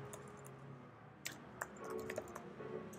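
A name being typed on a computer keyboard, a few quiet key clicks close up, sparse at first and then a quick run of taps, with no talking.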